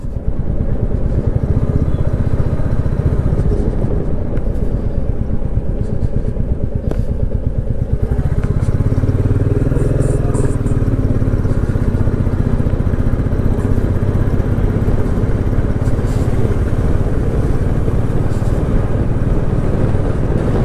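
A motorcycle engine runs steadily and close while riding through the left-hand bike lane of a highway toll plaza on the way to Siliguri, with a deeper rumble and rushing wind noise in the later part.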